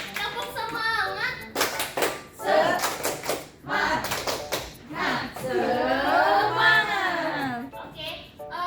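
Schoolchildren in a classroom perform a rhythmic clapping chant, sharp bursts of clustered hand claps alternating with sung and spoken children's voices close by.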